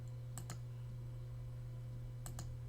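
Computer mouse clicks while adding a bookmark in the Chrome browser, two quick pairs of crisp close clicks separated by a pause, over a steady low electrical hum.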